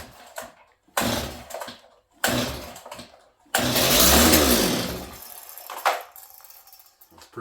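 An old auction chainsaw on full choke gets several pull-start attempts: short raspy pulls, then a brief sputtering catch of the engine that roars for about two seconds and dies, up close.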